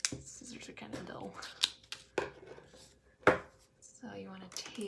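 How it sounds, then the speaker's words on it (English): Dull scissors snip through paper bodice pattern pieces in a series of separate crisp cuts with uneven rhythm, close and fairly quiet, while a person talks softly. "Scissors are kind of dull."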